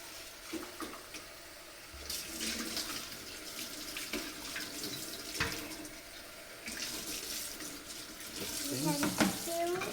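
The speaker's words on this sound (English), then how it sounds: "Maybe we can simply rinse this with water." Running tap water splashes steadily as a moka pot is rinsed beneath it, with metal clinks and shifting splashes throughout and a brief voice in the background.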